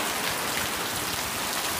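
Steady rain falls over farmland, a dense even hiss of drops on surfaces that carries on without a break and with no voices.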